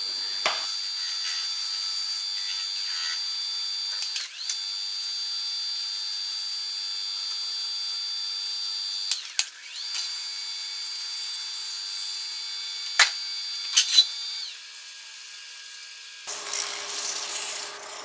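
A wood lathe spins with a steady high whine while a skew chisel scrapes lightly against the edge of a turning wooden Christmas ornament in short passes.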